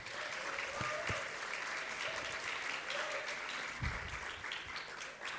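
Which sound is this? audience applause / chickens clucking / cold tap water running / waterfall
audience applause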